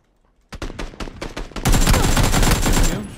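Gunfire in PUBG: a quick burst of rapid rifle shots, then a denser, louder sustained volley with a ringing tail, close and loud.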